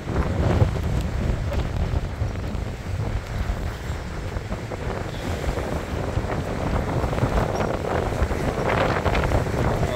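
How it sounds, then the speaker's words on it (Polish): Strong gusting wind buffets the microphone at a lakeside in Brunnen, a constant loud rumbling roar mixed with the wash of waves, steady for the whole stretch with no speech. "Jeszcze czegoś takiego tutaj nie widziałem, takiego wiatru."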